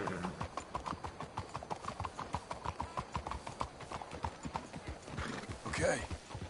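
Horse hooves clip-clop in a steady, close walking rhythm in Red Dead Redemption 2, with voices talking over it and a horse whinnying briefly near the end.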